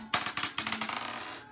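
Pennies drop onto a table in a kindergarten math counting game, a quick run of bright metallic clinks and rattles settling into smaller taps, close and clear.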